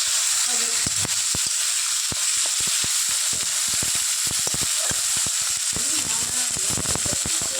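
Food fries loudly in a kadai, with a steady bright sizzle broken by dense, irregular pops and crackles throughout.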